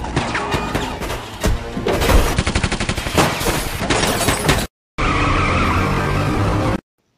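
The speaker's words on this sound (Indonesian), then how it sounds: "Dan akhirnya terjadi baku tembak." Gunfire bursts between robbers and police in a movie shootout, rapid loud volleys mixed with tire squeals and skidding cars, followed by a brief silence and then a sustained, harsh burst of noise.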